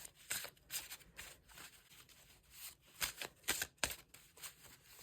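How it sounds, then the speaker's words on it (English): Paper prompt cards for junk journaling being shuffled by hand, a series of soft, quick riffling and flicking bursts at close range, quiet and irregular, with no talking. "All right, let me just shuffle."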